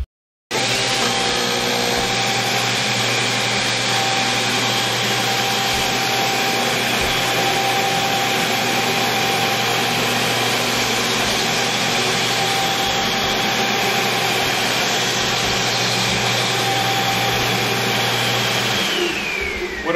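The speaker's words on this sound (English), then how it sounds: "is the cleaning of the mats while the vacuum and the squeegees are down" A floor scrubber with its vacuum and squeegees lowered runs continuously while cleaning mats, a loud steady motor drone with a whooshing suction hiss and a low hum that holds level throughout, then winds down at the end.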